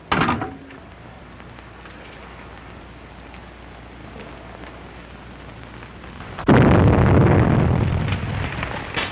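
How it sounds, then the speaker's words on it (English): An explosion effect in an old radio crime drama bursts in loudly, a broad roaring blast that rises from a low hiss and slowly decays over a few seconds. "Explosion in 93 Madeira Drive."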